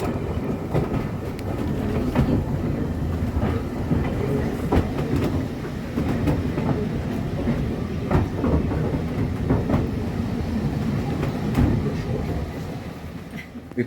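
A steam train runs along the Tanfield Railway in a steady, continuous rumble, with rhythmic wheel clatter and occasional sharper knocks throughout, close and alone without voices.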